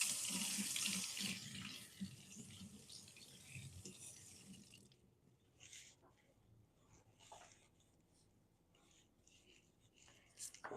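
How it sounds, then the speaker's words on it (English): Tap water running into a sink while scallions are washed in a home kitchen, a steady hiss for several seconds that cuts off, followed by faint clinks and handling noises. "I have to go wash it real quick"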